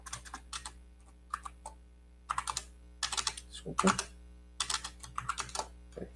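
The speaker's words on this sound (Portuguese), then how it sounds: "Estou brigando com o teclado aqui, gente." Bursts of quick clicking keystrokes on a computer keyboard while someone writes Python code, close and fairly loud, broken by short pauses and a brief spoken word.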